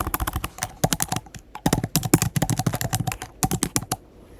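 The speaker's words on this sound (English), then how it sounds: "you're going to type in YouTube thumbnail" Rapid typing on a computer keyboard, with bursts of crisp, close key clicks separated by short pauses, then the clicking thins out toward the end.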